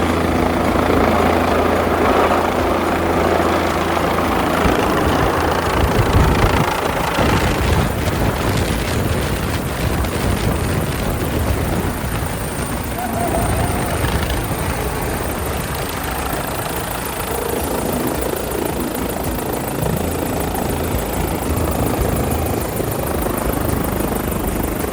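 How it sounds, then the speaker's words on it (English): A helicopter arrives at a Rubicon Trail camp, its loud, steady rotor and engine roar filling the whole stretch with a continuous thrum, close by and unbroken, with no talk over it. "Here comes our chopper now."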